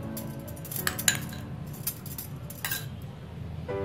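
A pan is set down and ghee spooned into it while making vermicelli payasam, with scattered metallic clinks and light scrapes of utensil on pan over a steady low background hum.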